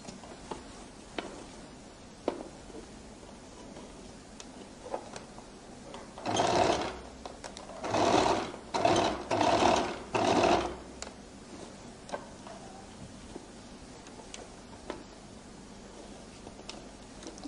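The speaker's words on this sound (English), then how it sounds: "I roll it open and I now begin to stitch." A sewing machine stitches a flared circular skirt in four short bursts of rapid, steady whirring, with quiet clicks and handling noises between them.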